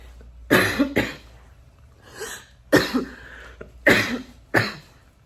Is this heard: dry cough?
yes